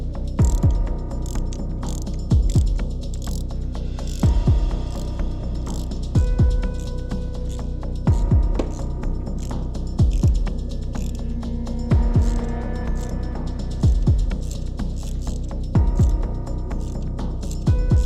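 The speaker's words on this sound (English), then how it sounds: "I'm going to remove 6 of the spark plugs, 3 each side" Repeated ratchet clicking from a socket wrench loosening spark plugs on a car engine, steady bursts of rapid pawl clicks every couple of seconds, close and fairly loud with a low hum beneath.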